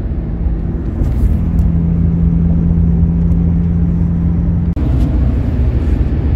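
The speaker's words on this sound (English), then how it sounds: "We're just driving down Raton Pass." Ford F-350 pickup with a new turbo rolling down Raton Pass, heard from inside the cab as a loud, steady road rumble and engine drone with a faint tonal hum that cuts out briefly near the end.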